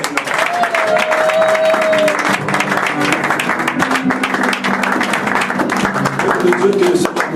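A church congregation applauds and cheers throughout, a dense wash of clapping mixed with raised voices and sustained tones.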